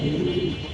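A pair of fancy pigeons, white Spanish birds, gives a short low coo, close and clear over a faint background hum.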